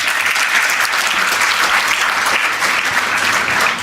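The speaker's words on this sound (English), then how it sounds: "Can we have a huge round of applause for him?" Sustained, loud applause from a summit audience honouring a panelist at an HR leadership event, a dense steady wash of clapping hands filling the room without pause.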